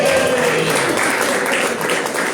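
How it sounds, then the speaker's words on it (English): Steady audience applause and cheering at a comedy show, dense and continuous throughout, with no clear talking. "make some noise for y'all selves."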